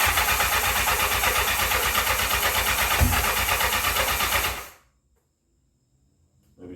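A 1984 Honda CB700SC Nighthawk motorcycle, freshly carb-cleaned and running on old gas with choke applied, cranking and running with a loud, dense engine roar that cuts off abruptly into silence.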